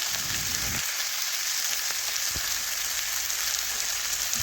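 Onions and tomatoes fry with turmeric and chili powder in a pan for a fish curry, giving off a steady, close sizzling hiss. A few faint low knocks come through, and no one speaks.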